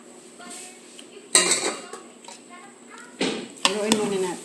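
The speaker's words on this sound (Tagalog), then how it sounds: "Haluin muna natin." Metal utensils clink and scrape against a cooking pot in a few short bursts while ginataang mud crabs are stirred, with quiet pauses between.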